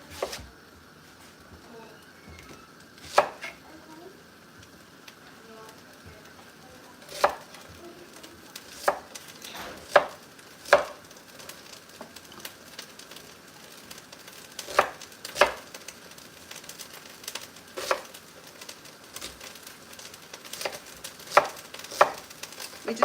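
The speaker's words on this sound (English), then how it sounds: "let me finish chopping the onions" Knife chopping onions on a board in a home kitchen while preparing curry Dungeness crab, with sharp, irregular cuts in small bursts spaced by pauses, fairly close and alone over a quiet background hum.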